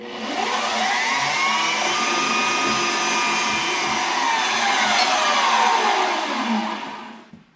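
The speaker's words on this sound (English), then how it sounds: "So we're going to do this on a lathe. I think I'm just going to use aluminum." A lathe machining an aluminum bar into adapters for bar end mirrors, giving a loud, steady whir with a rising and falling tonal whine that fades out at the end, with no talking.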